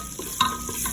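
Garlic and onion sautéing in oil left from frying carrots and potatoes, a steady close sizzle punctuated by a couple of brief stirring scrapes, with no one talking.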